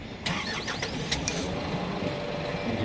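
A Linelift DHT120 engine starts and keeps running, with a steady broadband mechanical rumble and a few short clanks and squeaks near the start.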